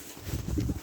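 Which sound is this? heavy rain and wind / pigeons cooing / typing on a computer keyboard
pigeons cooing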